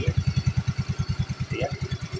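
A Honda New Soul GT 125 motorcycle idles close by, its engine thumping in a steady, even pulse with rough running from a weak oil pump, and no voices over it.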